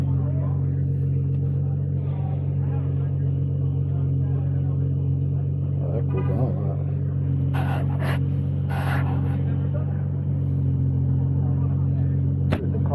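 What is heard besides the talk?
race cars driving at Watkins Glen International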